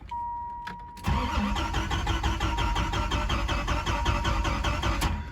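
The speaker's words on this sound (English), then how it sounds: "engine cranks, but it does not start" A 1993 Dodge Viper engine cranks steadily without catching, the starter churning in a fast even rhythm for about four seconds after a brief electronic tone, close and loud with no talk.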